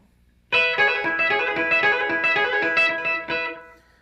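A chicken pickin' electric guitar lick, played with a sweeping technique, comes as a quick run of bright, snappy notes through a little effect and reverb. It begins after a half-second pause, then a final note rings out alone.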